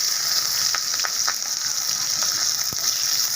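Onion frying in a hot pan, a steady bright sizzle running throughout with a few sharp crackles and pops, close and unbroken, no voices.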